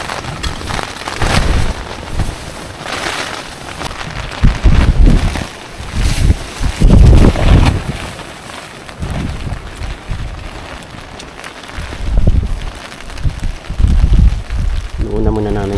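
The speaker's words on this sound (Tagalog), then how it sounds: "Lakas ng hangin." Strong typhoon wind buffets the microphone in heavy gusts on a mountain summit, with rain noise throughout and a few indistinct voices underneath.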